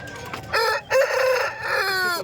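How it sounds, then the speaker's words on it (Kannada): Roosters and hens at a weekly country-breed poultry market in Kundarapalli crow loudly and close, with overlapping cock-a-doodle calls in quick succession over faint clucking. "ಕೋಳಿಗಳಾದರೆ ಜಾಸ್ತಿ ಇದ್ದಾವೆ"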